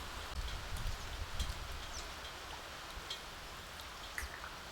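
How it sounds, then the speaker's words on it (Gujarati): Steady rain falling nearby during an unseasonal downpour, a soft continuous patter with occasional sharper drops, no voices. "હવે ભાઈ વરસાદ શરૂ થઈ ગયો"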